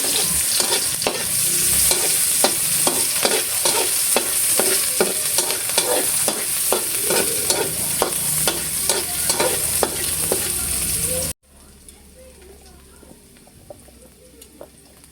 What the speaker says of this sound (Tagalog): Gigisa ko na po itong bawang at sibuyas.